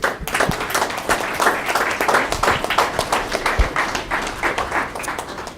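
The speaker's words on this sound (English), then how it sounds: "And a round of applause for everybody." Applause at a county commission meeting in Ellis County, Kansas: a room of people clapping steadily for several seconds, with individual claps audible and the sound fading slightly toward the end.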